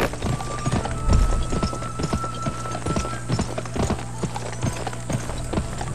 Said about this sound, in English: Wow, this horse sounds really weird.